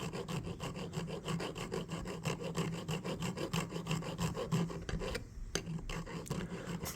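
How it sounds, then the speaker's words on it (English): A metal file rasps slowly and steadily across the kick of a Klein electrician's pocket knife blade, with even back-and-forth strokes close up, a brief pause near the end, no talking. "carefully and slowly file this kick down just a little bit"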